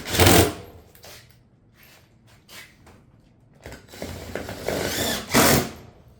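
Power tool driving fasteners into shake-style metal roof valley panels, two loud short bursts at the start and end with fainter mechanical handling noises between, close by and no talking.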